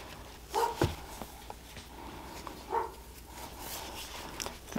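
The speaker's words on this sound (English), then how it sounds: "The dog is barking." A dog barks in the background with a few short, moderately distant barks at intervals, set against quiet room noise.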